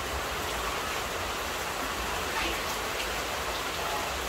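Steady rain falls at the start of the rainy season, a loud, continuous hiss of drops striking surfaces close by, unbroken throughout with no voices.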